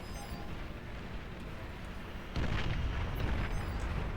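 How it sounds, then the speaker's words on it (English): An explosion near an advanced geothermal structure in the strategy game Beyond All Reason, heard as a rumbling blast that swells abruptly partway through and then holds as a heavy, sustained roar. "We are seeing a second explosion, but on the other side of the advanced geothermal."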